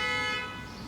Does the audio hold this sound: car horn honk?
yes